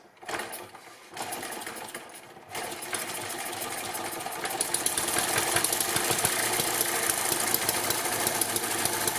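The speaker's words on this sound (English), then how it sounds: "give it a few little spins clockwise to fill up the carburetor, and you should be go" A small hit-and-miss model engine, the Eachine ET7, sputters to life after a few short clockwise turns, then settles into a fast, steady mechanical chatter that runs on evenly and close.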